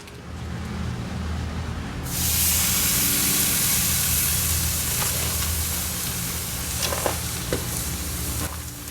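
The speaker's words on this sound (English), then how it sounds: "that's a nice sizzle on that" Marinated pork tenderloin hits a hot grill and bursts into a loud, steady hiss of sizzling that stays close and continuous, with a few faint pops and crackles mixed in.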